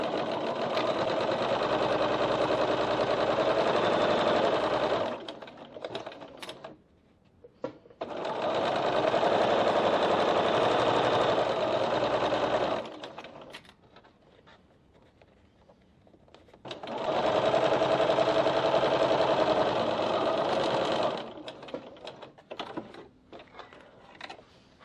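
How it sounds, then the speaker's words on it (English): A sewing machine stitching along the top edge of a bowler bag runs in three long, steady bursts of about five seconds each, with a close, even mechanical whir and quiet handling noises in the gaps between runs. "And now we're going to stitch this top edge."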